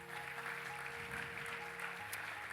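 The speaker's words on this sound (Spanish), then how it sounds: "Dale un aplauso a Jesús." Steady applause from a church congregation fills the room during worship, a dense continuous patter with a low sustained musical tone running underneath.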